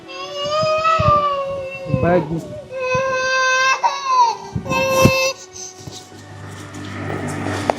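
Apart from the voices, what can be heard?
baby crying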